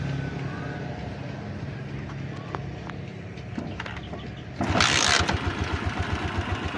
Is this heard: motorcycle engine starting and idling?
yes